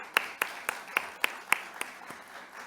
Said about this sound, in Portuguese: Aplausos, por favor.